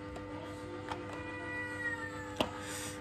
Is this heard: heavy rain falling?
no